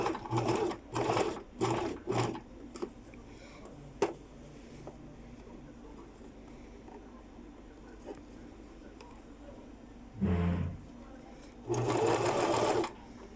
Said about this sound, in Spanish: Seguimos cosiendo.